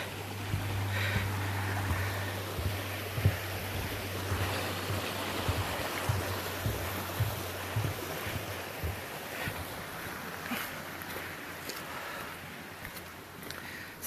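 A stream flows under a wooden footbridge on the Appalachian Trail, a steady broadband rush of moving water heard close and continuous, with a low hum running through the first two-thirds and no talking.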